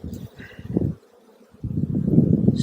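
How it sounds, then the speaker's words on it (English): Honeybees buzz during a beehive inspection, with a low, busy hum close by that drops away briefly and then returns, louder and denser. "Looking on this side, bees everywhere"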